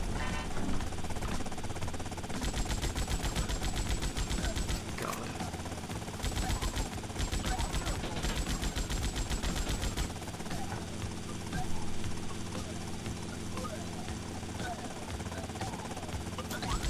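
Gunfire in Grand Theft Auto: Vice City comes as rapid repeated bursts of automatic shots, several volleys spread over the span, beneath a steady background of game noise.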